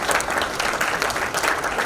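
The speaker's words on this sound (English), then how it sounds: "A big round of applause for the previous year's winners." A crowd at a lifetime achievement award ceremony applauds the previous year's winners, a brief burst of steady, fairly even clapping.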